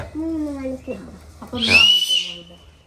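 A pressure cooker in a home kitchen lets out one sharp, hissing whistle lasting about half a second, fairly loud and close, between stretches of people talking.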